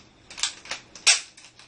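Several sharp pops from a Nerf gun firing foam darts, about four quick shots spaced irregularly over under two seconds, the last one loudest, with no talking.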